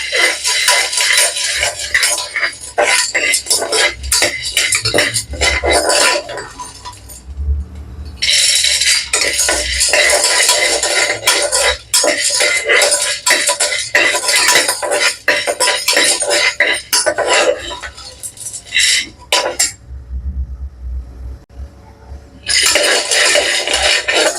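Ingredients dry-roast in a pan toward light brown for a South Indian karuvadu kuzhambu, with a continuous loud, close sizzle and clatter that drops out briefly several times. No speech.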